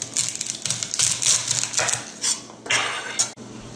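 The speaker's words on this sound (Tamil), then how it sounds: "அடிப்பக்கத்தால் ஒரு இஞ்சியை வெட்டி விடுவோம்" Crisp knife strikes and chopping clatter on a board as ginger is cut, irregular and close, with clinking of utensils between cuts.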